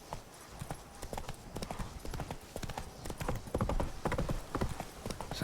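Roach, a horse in The Witcher 3: Blood and Wine, gallops with rapid, continuous hoofbeats that grow slightly louder toward the end, under a layer of game ambience.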